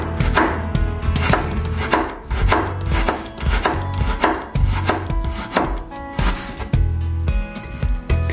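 A knife slicing a piece of fresh turmeric on a cutting board: a steady run of close, crisp chopping strikes, roughly one to two per second, with light scraping between cuts and no talk.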